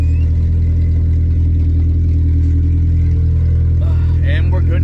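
A K-swapped Honda Civic engine runs very loud, a steady deep drone held close throughout with a little clatter on top, and faint voices near the end.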